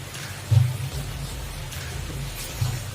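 Steady rain falls outside, a soft continuous hiss with a couple of low thumps, with no talking.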